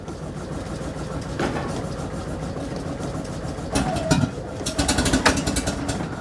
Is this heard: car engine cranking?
yes